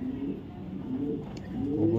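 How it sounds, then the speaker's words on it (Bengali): A young red pied dresser female pigeon coos softly and steadily in low, rolling tones, continuous throughout with no talking. "এখানে দেখাবেন রেড পাইট ড্রেসার একটা মাদি কবুতর।"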